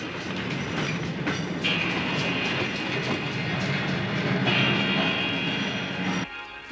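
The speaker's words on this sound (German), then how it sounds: "Und niemand weiß, wann die Geisterzüge kommen." A ghost train rolls out of a tunnel with a loud, steady rumble and rhythmic clatter of wheels, a bright whine rising over it, continuing throughout before cutting off abruptly near the end.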